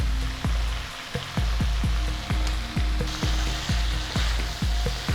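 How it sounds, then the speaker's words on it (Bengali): Jackfruit curry with a spoonful of sugar sautés in a pan, a steady sizzle broken by a regular train of soft knocks as it is stirred, close and continuous. "চিনি দিয়ে আবারও কিছুক্ষণ কষিয়ে নিচ্ছি"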